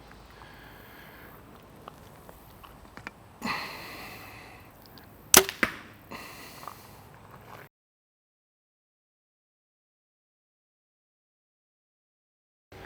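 A 450 grain arrow is shot from a bow at a target 20 yards away, passing paper at 10 yards. Quiet outdoor ambience gives way to a single sharp snap and brief thuds, followed by silence.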